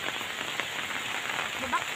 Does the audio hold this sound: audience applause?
no